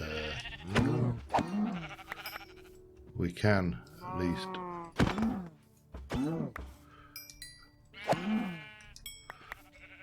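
Sheep in a video game bleat several times in a row, long wavering cries coming loud and close, with someone speaking briefly between them.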